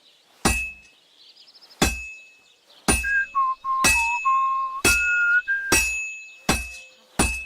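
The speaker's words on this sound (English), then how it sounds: "Now take the hammer and try hitting it a few times." A smith's hammer strikes a heated sword on an anvil in Kingdom Come: Deliverance II, eight sharp ringing metallic clangs at a steady, unhurried pace, each with a bright lingering ring, close and loud with no talking.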